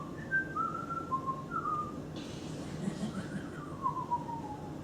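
A person whistles a wandering tune in short, rising and falling phrases while waiting for exam screens to advance, set over a steady low room hum with a brief burst of noise midway.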